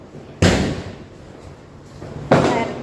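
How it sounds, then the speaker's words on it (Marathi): Two sharp, loud bangs about two seconds apart, each trailing off into a rumbling echo, as Diwali firecrackers burst outdoors. "खूप सारे फटाके वाजताय बाहेर"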